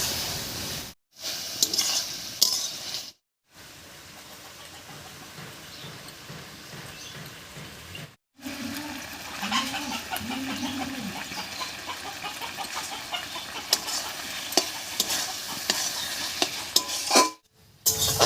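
Spice paste cooked and stirred with spinach in a pan, a steady sizzle with repeated scraping stirs, close, broken by a few short cuts to silence.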